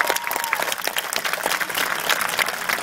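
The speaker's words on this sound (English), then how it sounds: "Let's give Mr. Warren a round of applause." A crowd gives a round of applause for a special guest at an ALS challenge gathering, dense, continuous clapping from many hands close by for the whole stretch.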